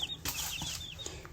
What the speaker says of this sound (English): This is my chickens.